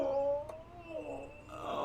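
A cat gives a drawn-out, wavering yowl that bends up and down in pitch, loud and close, with a short click partway through and a rising whine at the end.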